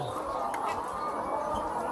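Many laying hens in caged poultry house units cluck and murmur together in a steady, dense chorus, close and continuous without pause.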